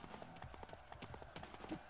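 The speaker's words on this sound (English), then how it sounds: "get on the horse, come on, get on the horse" Horse hooves in the video game Dynasty Warriors, a quick rhythmic clip-clop of galloping, faint and brief under game noise.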